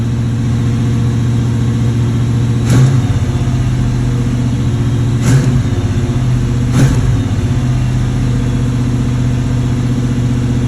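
A 1979 El Camino engine holds a steady high idle up close, with a constant drone and three brief louder blips along the way.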